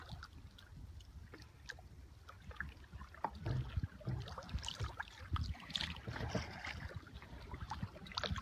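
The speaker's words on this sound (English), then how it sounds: "It's the sound of a double-person kayak paddling through one of the many bays in the area." Double kayak paddled through a bay in Southeastern Alaska, with soft, rhythmic splashes and drips of paddle strokes in the water growing a little louder over light wind noise.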